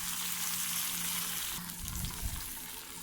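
Onions browned in a pan with green chilies, red tomatoes and garlic for vermicelli biryani, frying with a steady dense sizzle and light stirring scrapes near the end, close and continuous, with no voices.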